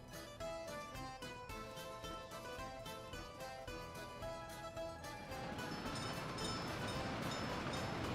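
A train runs in the Soviet-era city-building game Workers & Resources: Soviet Republic, a steady rolling rumble that starts over a layer of game music, then swells into a dense, continuous rail noise with no talk.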